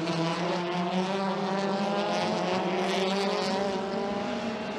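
WTCC touring race cars launching off the grid at the 2017 Marrakech main race, a loud, dense drone of several engines with steady harmonic whine, sustained and close throughout without any talk.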